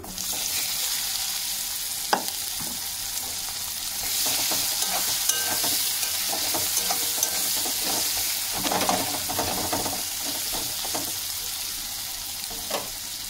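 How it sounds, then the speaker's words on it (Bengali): Chopped onion sizzles steadily in hot oil rendered from a 4 kg desi pangas fish, with whole garam masala already fried, as a spoon scrapes and stirs the pan now and then; no voices. "আমি পেঁয়াজ কুচিটা দিয়ে দিচ্ছি।"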